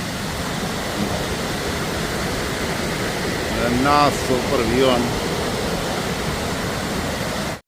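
A forest waterfall near Alyth, Scotland, roars as steady broadband rushing water throughout, with someone briefly speaking over it in the middle.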